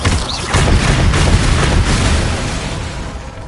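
A blasting spell explodes in a fantasy wizard battle game, a loud, dense boom that swells quickly and rumbles on for a few seconds before slowly fading.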